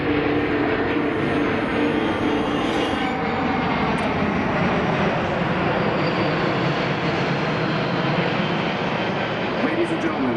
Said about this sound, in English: As the aircraft approaches from your left to right